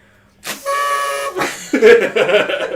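A horn gives a short, bright toot, followed by a second, rougher honk amid background chatter and laughter.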